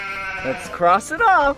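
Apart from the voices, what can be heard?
sheep bleating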